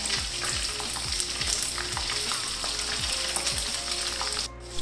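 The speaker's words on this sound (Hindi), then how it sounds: "बाकी का भी मैं सारा इसी तरह फ्राई करती जाती हूँ" Chicken pieces fry in hot oil over a medium flame with a steady, close sizzle, broken by a few repeated low scraping or stirring strokes and a brief dip near the end.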